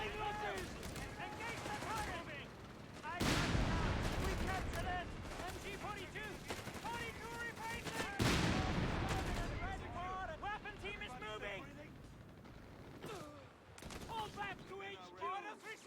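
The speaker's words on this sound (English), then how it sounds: "I'll use the LG-40 here to attack his infantry." Rocket artillery fire from the LG-40 in the Company of Heroes 3 game, bursts of launches and impacts with loud blasts around 3 and 8 seconds amid ongoing battle gunfire and rumble.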